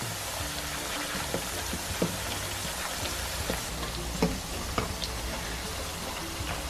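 Green plantains fry in a shallow pan of oil, giving a steady close hiss and crackle with scattered sharper pops throughout.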